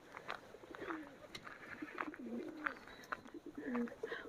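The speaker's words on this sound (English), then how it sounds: "I'm quite sure there's quite a few pigeons that go in there and nick our food." Pigeons coo in soft, rolling phrases that repeat several times at close range, with a few faint clicks and rustles between the calls and no talking.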